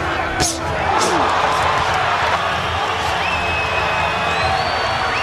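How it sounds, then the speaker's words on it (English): A boxing arena crowd roars and cheers for Roy Jones in a steady, full wash of noise with scattered shouts and whistles, while a commentator's voice talks over it. "the crowd stands and cheers Roy Jones"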